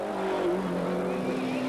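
Ford rally car on the 1995 Monte Carlo Rally, its engine a steady, moderately distant drone held at constant revs throughout, with no one talking.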